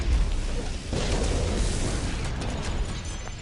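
Explosions in the Guardians of the Galaxy game build into a dense, continuous roar of blasts and crackling debris, with a heavy impact near the start and sustained rumbling chaos throughout.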